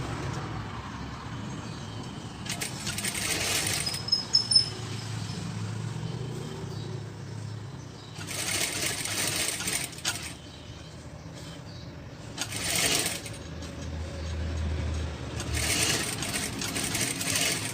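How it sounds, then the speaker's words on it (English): Sewing machine stitching the sides of a handmade fabric mask, running in several short bursts with pauses between them, fairly close and steady, with no talking. "And stitch the mask from 3 sides."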